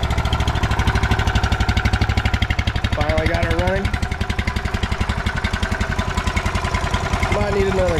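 A cheap outboard motor running with a rapid, rough pulsing engine beat, loud and close, its pitch shifting briefly as throttle changes.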